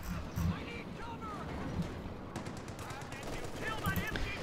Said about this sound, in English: The whole machine gun got somebody.